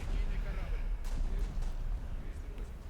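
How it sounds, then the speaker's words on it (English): Naval gun salvo firing in a warship game with a USSR Project 206 Kronstadt cruiser: heavy low booms roll one into the next in a steady rumble, with sharper reports near the one-second mark, under continuous speech. "I like the look of that salvo focusing there on that front turret"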